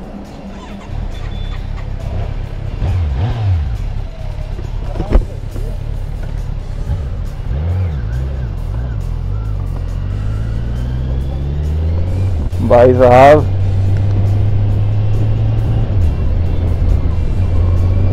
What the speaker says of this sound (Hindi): अभी लाइफ में फर्स्ट टाइम मैं चलाने वाला हूँ Z900